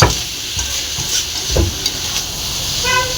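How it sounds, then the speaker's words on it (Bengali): Fish curry seasoned with salt is stirred in a hot pan, giving a steady sizzle broken by several short scraping knocks of the spoon, with no voices. "এবার এটা ভালো করে এরকম নাড়াচাড়া করে মিক্স করে দেবো।"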